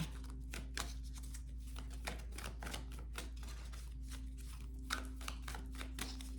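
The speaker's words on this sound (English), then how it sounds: "Shuffling for Aries." Tarot cards shuffled in quick, irregular crisp riffles and taps, soft and close, over a low steady hum with no talking.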